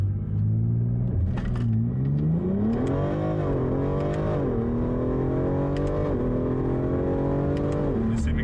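A tuned BMW X3M making over 750 wheel horsepower accelerates hard, its loud engine drone climbing and dropping through gear shifts with a steady rumble, heard close from inside the car without talk.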